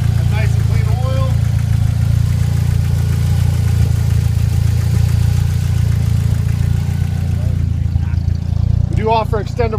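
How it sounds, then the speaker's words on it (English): A 1993 Jeep Wrangler 2.5-liter four-cylinder engine runs at a steady idle, its low hum loud and constant throughout, with a voice talking faintly over it near the end. "This is a 1993 Jeep Wrangler with a 4-cylinder."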